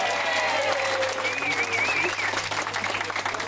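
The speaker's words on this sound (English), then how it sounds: "I think they deserve much better applause" Passengers aboard a Danube river cruise ship applaud the kitchen crew, sustained clapping from a crowd near Vienna with a faint whistle-like tone and murmured voices mixed in.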